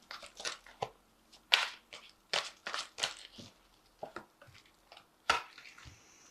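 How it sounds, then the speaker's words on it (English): Angel Tarot cards shuffled and drawn from the deck, a run of quick, close papery slaps, riffles and rustles in short bursts with quiet gaps between, no talking. "So I'm going to just draw some cards from the Angel Tarot"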